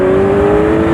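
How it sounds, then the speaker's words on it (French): Unrestricted Kawasaki Z900 four-cylinder motorcycle accelerating hard, a loud, steady, high-pitched engine drone that holds close and continuous for the whole second, with no talking. "Un 4 cylindres débridé, il accélère fort, et il accélère fort pendant longtemps."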